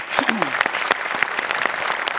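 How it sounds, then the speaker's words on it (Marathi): Sustained audience applause filling the room at a Marathi comedy show stage, dense steady clapping with a few voices calling out underneath. "त्यांच्यासाठी जोरदार टाळ्या."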